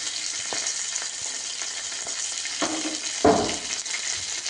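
Garlic hitting hot oil for green chili thecha, a continuous sizzle with a few soft stirring knocks and a louder burst of frying partway through, no talk.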